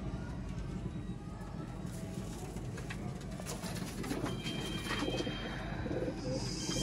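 Sialkoti pigeons coo softly among a steady background of other birds, with a faint voice occasionally underneath.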